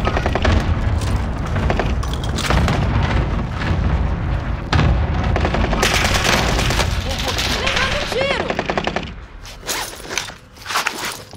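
Cluster airstrike explosions in Call of Duty Warzone land as a loud rolling barrage of booms and crackling blasts, dense for most of the stretch before thinning near the end, with gunfire mixed in and voices talking over it.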